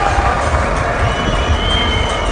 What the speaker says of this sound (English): It's been applauded by a sparse crowd here.